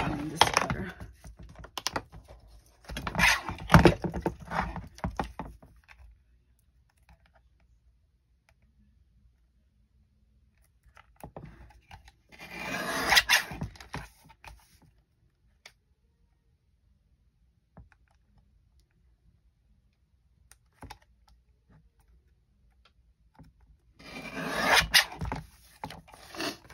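A paper cutter trims vintage junk mail envelopes in three separate bursts of raspy scraping and clicking, each lasting a few seconds with near silence between them.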